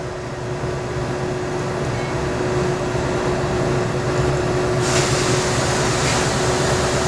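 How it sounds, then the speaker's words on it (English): A steady, loud hiss of nitrogen gas from a cylinder rushing into a scanning electron microscope's vacuum chamber, continuous and even, with a constant mechanical hum and a slight brightening partway through. "you'll hear the chamber filling with nitrogen"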